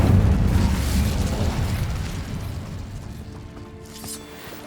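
A loud, rumbling whoosh of fire from the Incendio spell in Hogwarts Legacy opens and slowly fades over several seconds, leaving faint clinks and tonal game sounds near the end.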